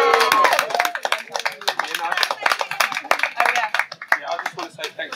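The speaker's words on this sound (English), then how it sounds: "I want to get another round of applause for the speakers," Audience at a meditation talk clapping for the speakers, a dense patter of scattered claps over a crowd with voices mixed in, fairly close and steady throughout.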